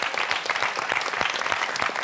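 Studio audience at a French TV quiz show applauds a contestant after a good answer, a brief burst of dense, steady clapping at close range with no talking over it.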